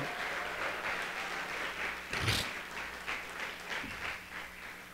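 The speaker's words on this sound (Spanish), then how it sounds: "Dale un aplauso más fuerte" A church congregation claps during a worship service, a steady, moderately loud wash of applause with a brief louder burst midway and no speech.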